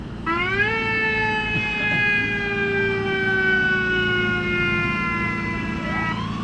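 A fire truck siren from the North Hero Fire Department wails steadily close by at a parade of lights, a long sustained tone with rumbling engine noise underneath.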